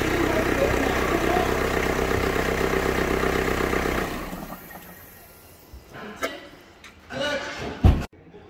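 A steady engine idle from an Audi A6 35 TDI diesel in good condition fills the first four seconds, then drops away to quieter rustling and a few sharp knocks.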